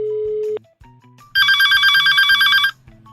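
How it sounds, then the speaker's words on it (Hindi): Telephone rings with an incoming call, a single burst of warbling electronic trill lasting just over a second, loud and clear in a quiet background between brief tones. "फोन कर रहा है यहाँ।"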